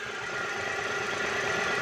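Small 0.8-litre engine of a 2005 Daewoo Matiz SE manual idling steadily, a smooth even hum with faint vibration, close by and alone.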